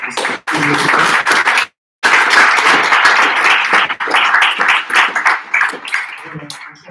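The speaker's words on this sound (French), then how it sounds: "On applaudit CFM" An audience at a machine learning meetup claps in a dense, close patter of many hands that breaks off briefly, then resumes and gradually thins out.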